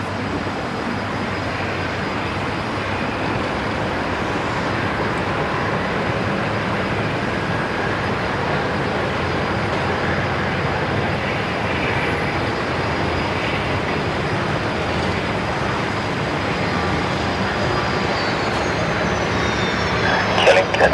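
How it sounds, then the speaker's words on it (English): A Qantas Boeing 737 takes off from Brisbane Airport's Legacy runway on a flight to Sydney, heard as a steady, broad, continuous jet roar that holds at an even level for the whole stretch and swells slightly at the end, with no voices over it. "Qantas 539 now just cleared the takeoff there, which is the Qantas 73 going down to Sydney as well, also going off of the Legacy runway"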